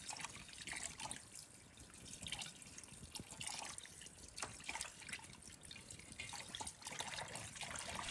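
Ribbonfish is rinsed under running tap water, a faint, continuous splashing trickle with small irregular drips and no voices.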